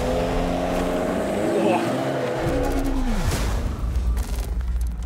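Compact SUV climbing a 100% incline, its engine straining loudly and continuously close by while someone talks excitedly over it.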